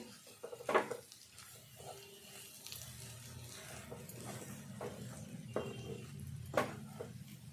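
Spoon scraping and stirring bitter gourd and tomato curry with ground coriander in a pan, soft low scraping with a few sharp clinks against the metal, quiet and close, no voices.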